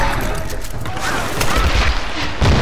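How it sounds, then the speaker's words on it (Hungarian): Gunfire in the video game Tomb Raider (2013), a loud rapid fusillade of shots and booms with a heavy blast near the end, under an excited voice. "Hány felől lőttök?"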